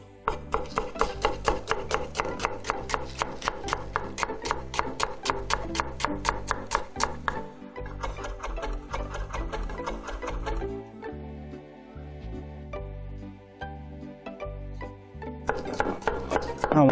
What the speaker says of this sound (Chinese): 那我们会切一点洋葱